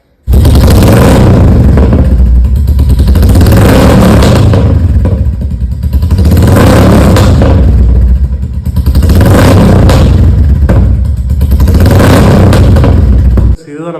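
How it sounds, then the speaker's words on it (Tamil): Motorcycle fitted with a Red Rooster aftermarket exhaust revving hard, a very loud, close, throaty roar that surges and dips in several repeated pulls before cutting off abruptly. "இதுதான் நம்ம எக்ஸாஸ்டோட சவுண்டு."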